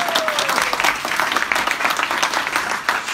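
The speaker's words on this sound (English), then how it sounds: "Give her a round of applause." An audience gives a loud, dense round of applause, many hands clapping close together in a steady burst that holds for a few seconds.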